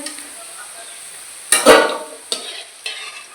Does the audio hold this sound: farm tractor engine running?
no